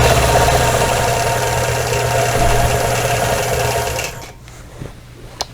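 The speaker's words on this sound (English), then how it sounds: "I'm going to just stitch over that area right there" A sewing machine runs in a fast, steady whirring burst while stitching a double wedding ring quilt, close and loud, then stops after about four seconds, leaving a few faint handling clicks.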